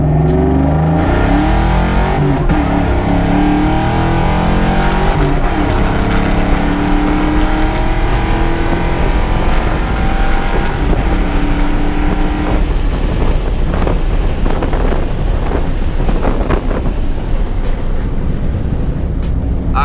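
A car engine held at wide-open throttle, pulling hard through the gears with a shift partway through. The roar is loud and continuous, with rising revs and heavy wind rush, and there is no talking.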